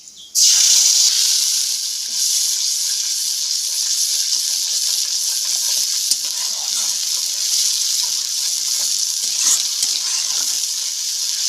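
A paste of ginger, cumin, fennel and chili hits hot oil with a sudden loud sizzle, then settles into a steady, close, bright frying hiss that continues throughout without speech.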